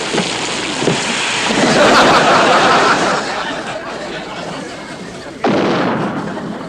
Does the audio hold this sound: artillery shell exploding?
yes